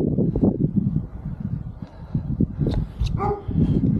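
A dog barks and whimpers a few times, short yips cutting through steady road and wind noise on a cold cycling climb toward San Vito.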